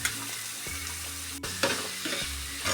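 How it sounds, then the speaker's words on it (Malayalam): Masala fries in hot oil with a close, steady sizzle, interrupted by a few scraping strokes and clanks as it is stirred in the pan; no speech over it. "അപ്പോൾ മസാല ഒന്ന് നല്ലപോലെ എണ്ണയിൽ വഴറ്റിയെടുക്കണം കേട്ടോ"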